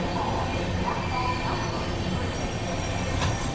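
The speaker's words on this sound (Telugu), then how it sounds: "మన ట్రైన్ వచ్చేసి బాపట్లకి అయితే వచ్చింది" SMT Bengaluru–Howrah Superfast Express (12864) pulling into Bapatla station running late, a steady loud rumble of rolling railcars with faint wheel squeal throughout, close by, no talk.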